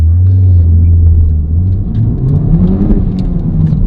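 Honda Civic Type R FL5 fitted with a Spoon Sports N1 exhaust pulls hard, a loud low rumble whose pitch climbs steadily as the engine revs build, close to the car with no talking.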